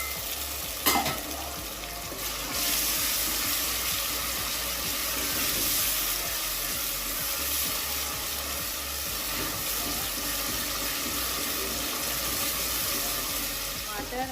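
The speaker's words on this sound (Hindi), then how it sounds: "अदरक लहसुन का पेस्ट डाल के अब हम इसको थोड़ी देर भूनेंगे।" Ginger garlic paste fries in a pan for a potato and fenugreek dish, a loud, continuous sizzle with a sharp clatter near the start, then a steady hissing crackle close by.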